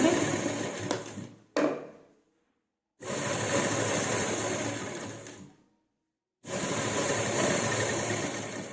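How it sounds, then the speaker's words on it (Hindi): An electric sewing machine stitching a neck design on fabric runs in three steady whirring bursts, separated by short silent pauses, close and fairly loud. "और इस तरह से कच्ची सिलाई लगाने के बाद हम गले में पक्की सिलाई लगाएंगे"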